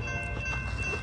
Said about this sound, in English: here comes Amtrak Capital Corridor train 732, your northbound train to Sacramento